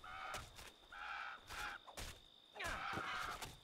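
Bird enemies in the video game Titan Quest caw repeatedly in harsh, crow-like bursts, several overlapping calls at a moderate, quiet level with game sounds beneath.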